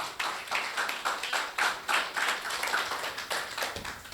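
Congregation applauding during a church service, steady rhythmic clapping from many hands at moderate volume, pulsing evenly throughout with no talk.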